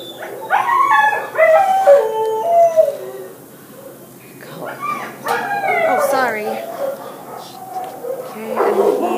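A dog at an animal shelter in South Los Angeles howls and whines in long wavering cries, with yips and short barks, close by and loud, pausing briefly before howling again.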